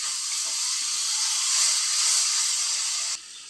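Water poured into a hot pan of spiced masala, a loud steady steaming hiss that holds for about three seconds and then cuts off abruptly to a quieter tail.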